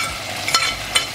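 Onions hit a hot pan and sizzle in a steady hiss, with two brief stirring scrapes close by, while cooking beef stew in Kenya.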